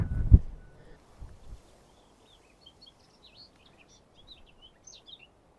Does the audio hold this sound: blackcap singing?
yes